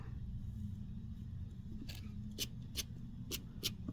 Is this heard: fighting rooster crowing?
no